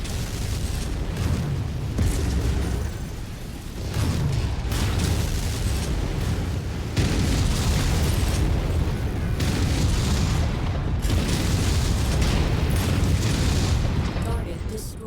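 Ammunition cooking off inside a mech in MechWarrior 5, heavy booming blasts arriving in repeated surges over a long stretch, loud and close, with some speech mixed under the noise.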